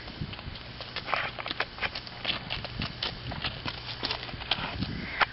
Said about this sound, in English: I don't think we gave the donkey a name, but here's the donkey.